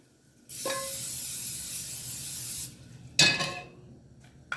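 A cooking oil spray can hisses in one steady two-second burst into a hot pan over a flame, followed by a brief sizzle and clatter.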